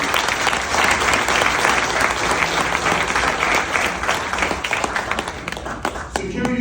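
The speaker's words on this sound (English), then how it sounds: "Why don't we give a round of applause for that?" Dense, steady applause from a crowd at a speech honoring security officers, sustained at an even level, with a voice briefly audible as it tapers near the end.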